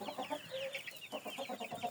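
Soft, rapid clucking and chirping from several fluffy, small-breed chickens and small chicks, close by and continuous, with no talking.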